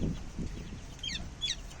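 Young chicks, one recently sick and recovering, give a few short high chirps near the middle and end, faint over low clucking and background noise, with no talk.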